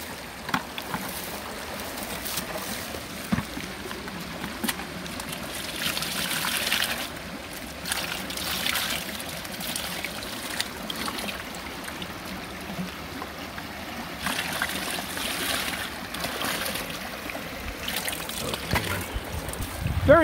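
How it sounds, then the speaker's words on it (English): Stream sample water is rinsed into a bucket outdoors, giving a continuous trickling and splashing that stays steady and fairly close throughout, with no talking over it. "Let's rinse this off. We'll rinse it into the bucket."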